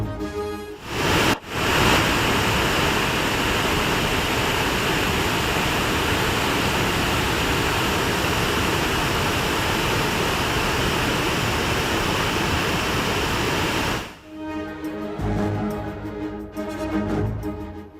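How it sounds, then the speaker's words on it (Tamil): Floodwater pours down the Panchalinga waterfall near Udumalai in Tiruppur district, a loud, steady broadband roar that runs nearly unbroken after a brief cut, then gives way to quieter mixed sound near the end. "திருப்பூர் மாவட்டம் உடுமலை அருகே பஞ்சலிங்க அருவியில் வெள்ளப்பெருக்கு."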